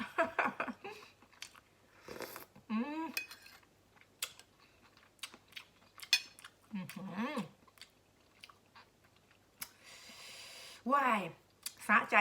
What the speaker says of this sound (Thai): เนื้อกุ้งนะคะ โอ้โหกรอบกรุบกรับกรุบกรับเลยค่ะ